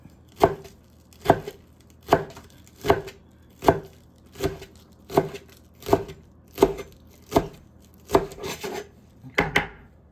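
A knife chops the green parts of green onions on a board in about a dozen crisp, evenly spaced strokes, close and clear, with no talking.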